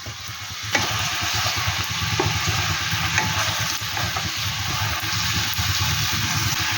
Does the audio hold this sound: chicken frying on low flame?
yes